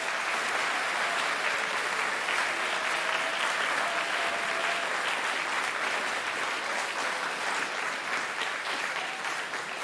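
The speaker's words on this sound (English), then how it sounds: "Round of applause for our food services team." A large audience applauding the food services team at a TEDx event at Brentwood College School, with loud, sustained clapping that stays full and even for the whole ten seconds.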